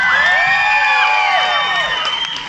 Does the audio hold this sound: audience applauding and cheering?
yes